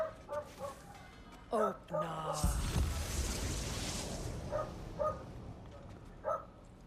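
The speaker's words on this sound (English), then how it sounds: "these dogs, I can't even get under. They just like to yell and bark and whatever." Dogs barking in God of War Ragnarök, several short yapping barks in clusters over the game's ambient noise and a rushing swell of sound, with a voice talking in the background.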